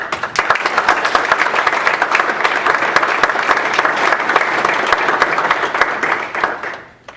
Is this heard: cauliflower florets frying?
no